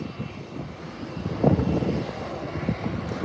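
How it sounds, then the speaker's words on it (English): A Delta airliner taxis along an airport taxiway, its engines giving a steady low distant rumble that swells briefly midway, with light wind on the microphone and no talking. "And Delta is taxiing right in this taxiway here."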